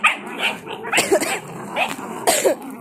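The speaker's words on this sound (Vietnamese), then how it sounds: "Con nào nó cũng gầm gừ hết luôn ấy." Belgian Malinois puppies growl and let out sharp, yappy barks at close range, the bursts coming repeatedly and overlapping.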